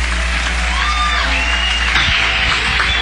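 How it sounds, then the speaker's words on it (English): A club audience at Antone's in 1990 applauds blues songwriter Larry Davis, giving a loud, dense, steady wash of clapping and crowd noise with faint whistles throughout. "Larry Davis, ladies and gentlemen, how about a nice round of applause for him?"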